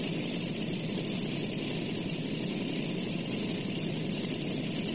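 A warplane's engine in the flight simulator DCS World drones steadily and loudly throughout, a dense, unbroken roar with low rumble and no pauses.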